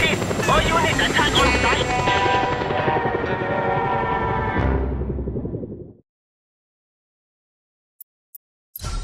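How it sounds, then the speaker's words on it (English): Helicopter rotor and engine roar from the video game Just Cause 2, loud and steady with music and effects, then cutting abruptly to silence before a few short clicks and a sudden return of sound. "Deal with that chopper, Rico, quickly!"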